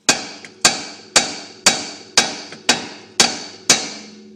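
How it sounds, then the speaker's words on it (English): A big hammer strikes the steel steering knuckle around the ball joint on a 1995 Honda Civic, eight loud metallic blows in a steady rhythm about half a second apart, each ringing briefly, close up with no talking. "you take a big hammer and you hit what the ball joint goes through"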